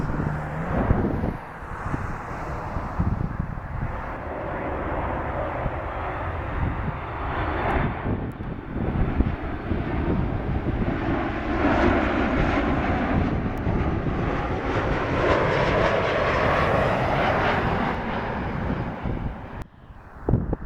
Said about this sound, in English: We have the 737 Max 8 coming in here to Dallas.